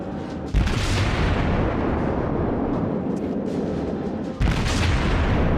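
Warship guns fire in the World of Warships game. Two heavy booming salvos land at the start and near the end, with a dense, rumbling roar of battle noise between them.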